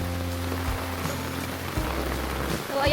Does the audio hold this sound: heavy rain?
yes